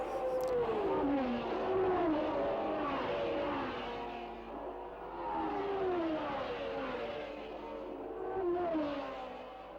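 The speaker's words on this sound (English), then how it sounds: "Clark was extending his lead all the time with the Lotus 25, and its Coventry Climax engine was sounding as if it was never going to miss a beat" A Lotus 25 race car with a Coventry Climax engine races past, its engine note rising and falling steadily in loud, sustained sweeps as it accelerates and changes gear, with no voices present.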